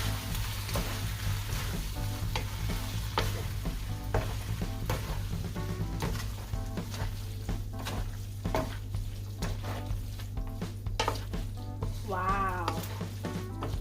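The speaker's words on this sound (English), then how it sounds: "So now I'm gonna turn the heat off and then keep stirring." Pad Thai noodles stirred in a hot pan with the heat turned off, soft sizzling under repeated scraping and knocking of a utensil against the pan at an uneven rhythm, close by.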